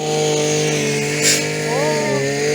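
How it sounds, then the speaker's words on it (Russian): A string trimmer runs with a steady, close, buzzing whine while grass is being cut, its pitch shifting slightly as it works. "А зять заставляет рычать триммер."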